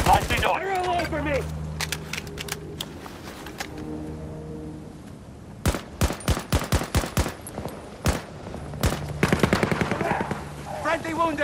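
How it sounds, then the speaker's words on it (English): Heavy gunfire in the shooter game Battlefield 2042: bursts of automatic fire and sharp single shots crackle in clusters, loudest in the second half, with voices talking and shouting over and between the bursts. "Taking heavy fire!"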